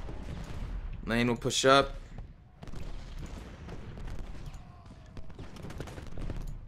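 Musket volleys and scattered rifle fire crackle across a Civil War battlefield in Ultimate General: Gettysburg, steady distant popping under a voice giving orders.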